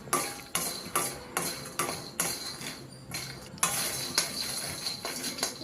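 Peanuts roasting in a pan for chutney are stirred with a utensil, giving steady rhythmic scraping clinks roughly every half second over a faint rattling background, close and without talk.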